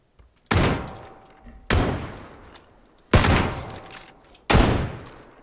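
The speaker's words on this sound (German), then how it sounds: "Hör mal auf zu schießen, ey." Four heavy, booming gunshots in PlayerUnknown's Battlegrounds, spaced about a second apart, each with a sharp attack and a long rumbling decay, loud and close with no talk over them.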